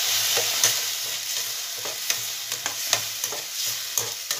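Prawn masala with curd yogurt frying in a pan, a steady sizzle broken by regular scraping stirs of a spoon, close and moderately loud with no talking.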